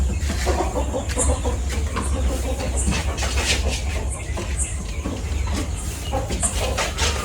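American Frizzle bantam chickens kept in a small three-by-three-foot cage, clucking intermittently at close range over a steady background rumble.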